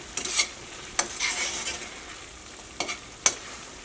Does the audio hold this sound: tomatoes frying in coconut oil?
yes